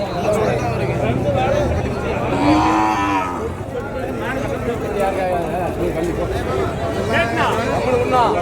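Cattle moo several times amid steady crowd chatter and people talking at a cattle market, a busy, noisy outdoor scene.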